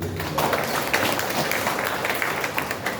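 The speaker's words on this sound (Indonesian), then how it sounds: "Tepuk tangan dulu" Audience at a RAPI amateur radio organisation gathering in Kulon Progo clapping after a call from the podium, a steady, fairly close wash of applause with scattered sharper claps throughout.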